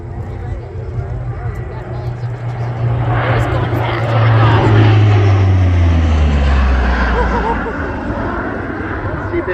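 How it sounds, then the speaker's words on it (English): Royal Canadian Air Force CP-140 Aurora long-range patrol aircraft making a high-speed pass at an air show in Debert, its propeller engine roar swelling loud with a falling drone as it passes, with an announcer talking over it. "On a high-speed pass, this is the Royal Canadian Air Force long-range patrol aircraft."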